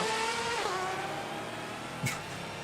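Porsche race car in the Assetto Corsa racing game, a loud, raspy engine roar holding high revs, with a brief sharp burst near the end over the continuous drone.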